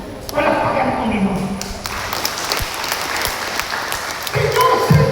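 Church congregation applauding steadily through most of the clip, a dense wash of clapping with talk from the preacher and voices mixed in.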